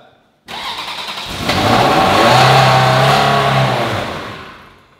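A Ferrari 360 Spider, left unrun for two years after damage repair, cranks and fires up, then its engine swells into a loud sustained rev before easing off, with no talk over it.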